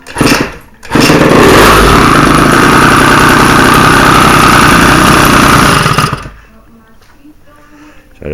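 A Bidalot G1 engine cranks briefly and then catches, running loud and steady for about five seconds with a rough, buzzing tone. It then drops away to a quiet idle or shutdown.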